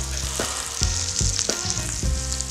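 Garlic and onion fry in a pan with a bright, close hissing sizzle, broken by several rhythmic stirring scrapes and thumps against the pan roughly every half second.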